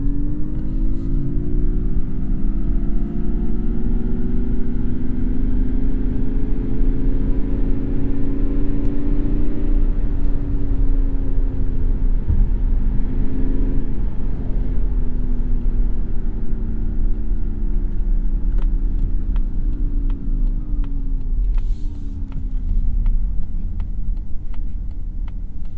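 A 2022 Mazda MX-30 electric car accelerating with a little wheel spin, giving a steady loud whir of rising and falling motor tones over continuous road rumble, with no talk.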